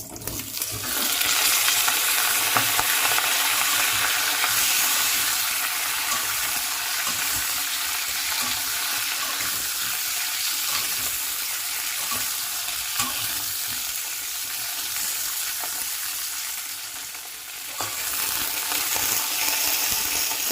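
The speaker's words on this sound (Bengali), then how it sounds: "এই চিচিঙ্গা আমি এখন সর্ষের তেলে 2-3 মিনিটের মতো একটু সাঁতলে নেব" Cut snake gourd sautéing in mustard oil in a wok, a steady close sizzle with repeated stirring scrapes and occasional metallic clinks, continuing for a long stretch with a brief dip near the end.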